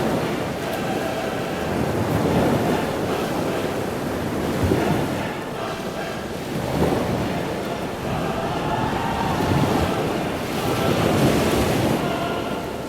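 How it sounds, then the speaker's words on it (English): Storm effect of hurricane-force wind and big waves around a boat at sea: steady roaring wind with surging, crashing surf that swells and recedes in slow waves, loud and continuous with no voices. "The winds got stronger and stronger until they became hurricane-force winds, and the waves got bigger and bigger."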